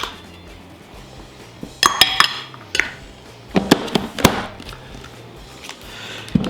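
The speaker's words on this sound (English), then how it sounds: "We're just gonna mix this together until well combined." Sweet potato casserole mixture of mashed sweet potatoes, salt, brown sugar, nutmeg and eggs being mixed in a bowl, heard as scattered sharp utensil clinks and knocks against the bowl over a low background, with no talking.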